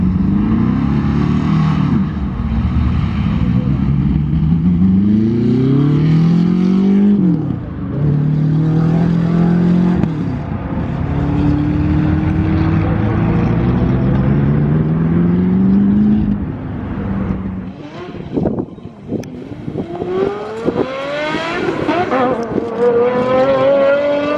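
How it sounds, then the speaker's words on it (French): An orange McLaren hypercar and a Ford GT40 race on an airport runway, with loud close engines revving hard and rising through repeated gear changes, sustained throughout and then dipping into a brief lull before accelerating again. "cette voiture orange apparemment c'est une McLaren, mais elle fait un bruit mais de psychopathe"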